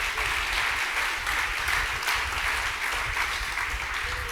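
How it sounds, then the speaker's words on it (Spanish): Steady, full congregation applause of praise fills a church service, dense even clapping sustained throughout without a break. "Dale un buen aplauso de alabanza a mi Jesús."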